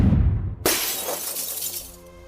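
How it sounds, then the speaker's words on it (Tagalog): Car windows smash as a body is slammed against the vehicle in a narrated story, one loud sudden burst of breaking glass followed by a long trail of tinkling shards settling. "Sa lakas ng pagtama, nabasag ang mga salamin sa sasakyan."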